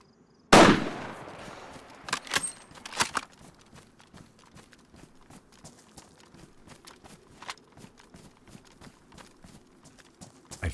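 Gunfire in DayZ on the Chernarus map: one sharp loud shot opens, then a few more scattered cracks and thuds over quiet footsteps and movement, with no talk.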